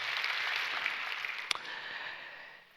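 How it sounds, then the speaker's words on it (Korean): Church congregation applauding in thanks during a Sunday service, a steady wash of many hands clapping that holds evenly and then thins toward the end, with one sharper clap standing out midway. "우리에게 은혜 주시는 좋으신 하나님께 박수로 감사하겠습니다"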